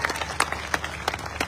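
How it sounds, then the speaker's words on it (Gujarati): Crowd claps for a district president at a political gathering in Vav-Tharad, Gujarat; sparse, uneven handclaps ring out at a moderate distance over a low murmur. "એક વખત તાળીઓના ગડગડાટ બધાઓ વધારે"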